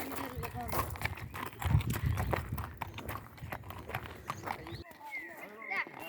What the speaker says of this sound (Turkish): Şimdi Ayazin'e ait atlar var.